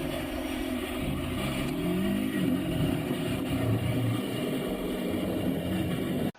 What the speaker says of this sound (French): Il suffit ensuite d'ouvrir la poignée des gaz en grand pour arriver à une vitesse de 80 km/h